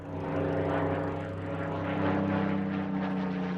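A Spitfire propeller warplane drones steadily overhead, a loud, continuous engine roar with a slight pulsing swell and no voices.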